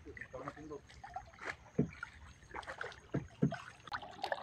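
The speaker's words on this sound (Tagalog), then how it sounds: "aming sagwanan na bangka" Wooden oars dip and pull through the water as a small rowboat is paddled at sea on a fishing trip, with soft splashes and knocks coming in a loose rhythm while someone talks throughout.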